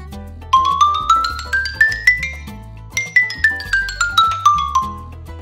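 School band percussion bells ring out in two quick melodic runs, first climbing and then descending, bright metallic struck notes played close and alone.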